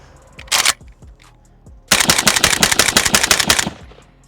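A Red Star BSR47 rifle fires: one short burst, a pause, then a longer sustained burst of rapid, loud, close shots with sharp echoing reports.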